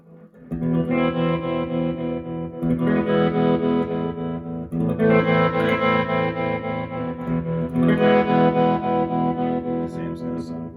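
A heavily effected electric guitar plays sustained distorted chords through a 1976 silverface Fender Twin Reverb amp, drenched in rattling spring reverb, loud and close, each strum ringing out into a washy tail.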